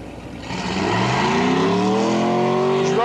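Big block Chevy 427 engine in a 1970s altered drag race car roars loud and close, climbing steadily in pitch as it accelerates down a raceway strip, with no talk over it.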